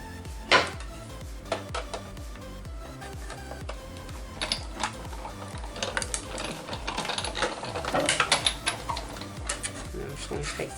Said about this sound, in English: So I'm going to die cut this out.